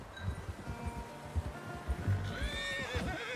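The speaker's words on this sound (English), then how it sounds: "How's that new horse?" A horse in Red Dead Redemption 2 neighing and whinnying near the end, heard over clip-clopping hooves and rustling movement, no talk.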